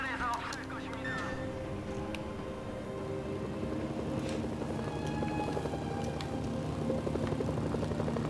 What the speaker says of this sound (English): Providing a copter for you.